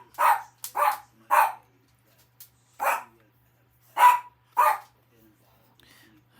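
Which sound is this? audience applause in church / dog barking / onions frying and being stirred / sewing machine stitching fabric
dog barking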